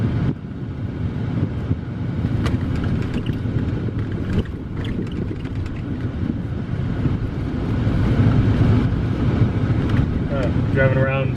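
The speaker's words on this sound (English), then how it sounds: "I'm actually going to shut my mouth and let you guys listen to the car accelerate." A Chrysler Fifth Avenue accelerating on a road around a lake, recorded from inside the car. A rough, rising engine drone mixes with wind noise and grows louder toward the end.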